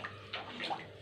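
Water splashes briefly into a simmering pot of vazhakkai kara kuzhambu, a raw banana curry, a quick soft pour heard alone and close.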